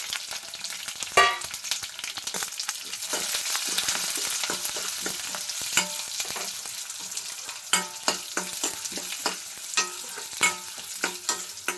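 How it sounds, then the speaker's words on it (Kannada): Ingredients for a green gram sambar frying in hot oil in a pan, an early loud clatter as they go in, then a steady crackling sizzle with frequent stirring scrapes and taps, close, no voices. "ಎಣ್ಣೆ ಕಾದಿದೆ, ಎಲ್ಲನೂ ಎಣ್ಣೆಯಲ್ಲಿ ಒಂದ್ಸಲ ಹುರ್ಕೋಬೇಕು"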